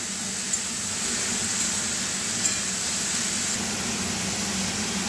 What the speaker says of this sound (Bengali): আবারও ভালোভাবে নাড়িয়ে নিলাম।